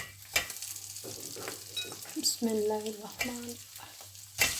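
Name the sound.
khoya being roasted and stirred in a pan on low flame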